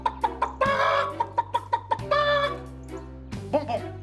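A person imitating a hen, a voice making rapid rhythmic clucks, then longer drawn-out squawking cries, close and loud with a low steady hum underneath.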